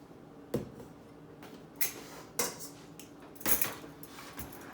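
Potato wedges tipped into a large KitchenAid mixing bowl, producing several separate hard clatters and scrapes spaced about a second apart. They are faint and close, with no voices.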